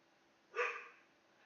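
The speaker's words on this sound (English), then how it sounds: "Angel's over there barking." A pet dog named Angel gives a single faint, distant bark, heard alone and only briefly.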